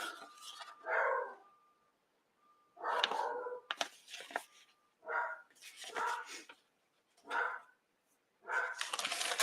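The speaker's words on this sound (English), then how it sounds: "Sorry for the barking." A dog barks repeatedly in short bursts, several clustered barks separated by pauses, fairly close and loud.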